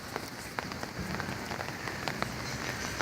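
Hurricane Irma rain pours down in Palatka, Florida, a dense, steady hiss of drops hitting surfaces close by, with scattered sharper taps throughout and no one talking.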